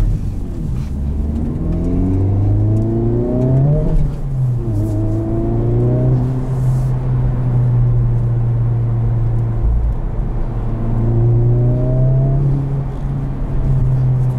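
A 2023 Honda Civic Type R in R mode accelerates hard through the gears, its engine note rising steadily in pitch and dropping at each shift, loud and continuous from the cabin.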